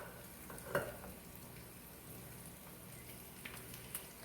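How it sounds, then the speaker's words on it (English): Ham sizzles in a frying pan while a country breakfast cooks, a faint, steady crackling hiss with occasional soft pops, heard from a short distance with no voices. "we can hear the ham, it's sizzling over there"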